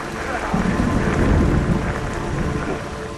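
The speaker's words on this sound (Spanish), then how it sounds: "empecé a pensar que llovía cada vez más fuerte" Heavy rain pours steadily with rolling thunder in a wild, dangerous place after a plane crash, forming a loud, dense, continuous roar that swells and eases slightly without a break.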